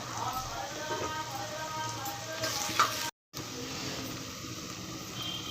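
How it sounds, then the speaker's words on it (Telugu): Tomatoes and chili powder frying and being stirred for goat head curry, a close, steady sizzle with scraping stir sounds, briefly cut to silence partway through before the sizzling resumes. "కారం వేసుకొని బాగా కలుపుకోవాలి"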